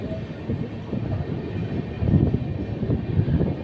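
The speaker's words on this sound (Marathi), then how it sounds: "हमारी ट्रेन जा रही है अभी" A train moves through the Bor Ghat near Lonavala with a steady low rumble and faint wheel clatter, heard from on board, swelling slightly louder toward the end.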